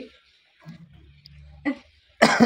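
A person said to have tuberculosis lets out one harsh, loud cough near the end, after a stretch of quiet low murmuring.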